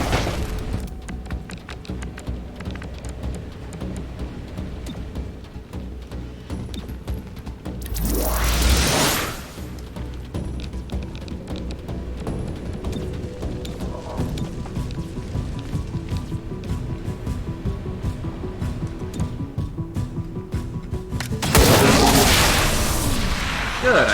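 A plasma grenade detonates in XCOM: Chimera Squad, a loud broadband blast near the middle that swells and fades over about a second, with a second heavy burst near the end, over steady game music and ambience.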